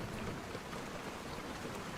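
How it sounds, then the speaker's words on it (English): Steady, dense rainfall hissing without a break, a constant wash of drops pattering on surfaces with low rumbling underneath. "Let me resume the rain sounds,"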